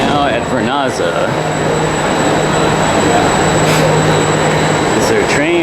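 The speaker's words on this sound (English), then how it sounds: "This is our train that we just took, and now we're taking the exit." Train at Vernazza station in Cinque Terre, Italy, giving a loud, steady rumble with a thin whine over it, while voices talk on top.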